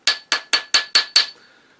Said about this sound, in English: I just hammer it until it's round